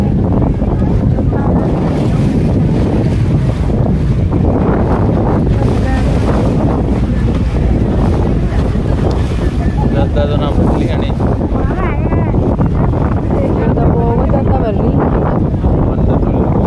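Sea waves surge and crash at a beach under strong wind noise buffeting the microphone, a continuous loud roar of water throughout with people talking over it.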